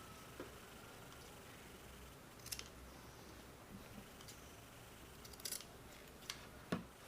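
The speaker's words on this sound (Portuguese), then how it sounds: "com uma tesoura e vou cortar aqui os cantinhos, os 4 cantinhos" Scissors snip the four corners of a fabric rectangle for a baby burp cloth, several quiet, sharp isolated clicks spaced irregularly over a faint hiss.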